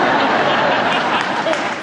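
A graduation audience at Drexel Law School breaks into dense, steady clapping that stays loud and continuous for the whole short stretch.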